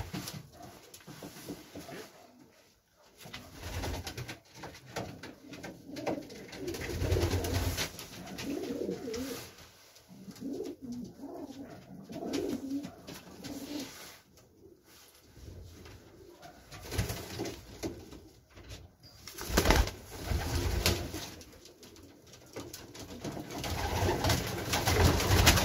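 Racing pigeons in a flight loft coo continuously in low, rolling calls, close and fairly loud, with flapping and scuffling now and then.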